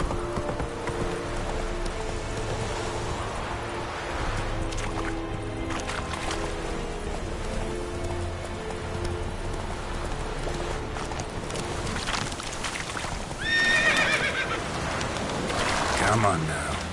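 Roach, the horse from The Witcher video game, gallops with steady clip-clop hoofbeats under a continuous music and ambience bed, with a voice speaking briefly over the action.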